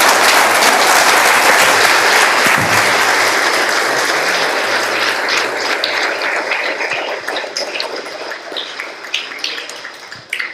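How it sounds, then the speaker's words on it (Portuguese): A church congregation at a Feast of Tabernacles service breaks into loud, sustained applause that holds strong and then gradually thins into scattered claps toward the end, with no speech over it. "Vamos aplaudir ao nosso Deus."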